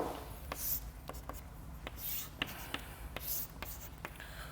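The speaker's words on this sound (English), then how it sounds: "here I will just write it down" Chalk or marker writing on a board during a continuum mechanics lecture: a series of short, sharp scratchy strokes in irregular rhythm, fairly close, with no talking.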